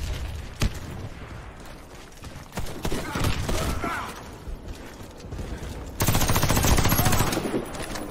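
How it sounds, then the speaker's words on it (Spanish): Gunfire in the shooter game Warface crackles in bursts and single shots, some sounding distant, with mechanical clatter and a loud rapid volley near the end, under ongoing game noise. "esos disparos escuchaban como de lejos"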